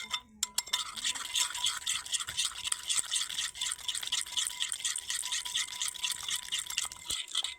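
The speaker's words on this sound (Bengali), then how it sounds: "এইবার দইয়ের সঙ্গে গুঁড়ো মশলাগুলো ভালোভাবে মিশিয়ে নিতে হবে" Yogurt is mixed with ground spices for a chicken roast marinade, a quiet, close, rhythmic wet stirring and squelching that repeats steadily with brief clinks at the start and end.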